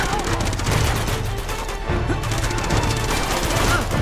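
Dense, sustained gunfire in Uncharted 2 as shots are fired at a tank, loud and continuous rapid bursts layered with booms and battle noise throughout.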